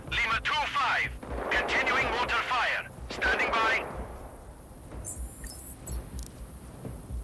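Enemy gunfire in Sniper Ghost Warrior Contracts 2, rapid shots cracking in bursts under someone talking, then thinning to scattered, fainter reports.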